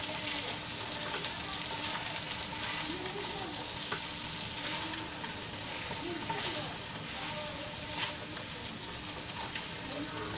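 Sabudana khichdi with peanuts is stirred in a pan, a steady soft sizzle and scraping running evenly throughout with no talk.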